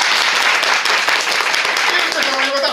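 Audience applause for contestant Ōhara in the final of an improv comedy (ōgiri) battle, a dense, steady wash of many hands clapping at close range with no gaps throughout.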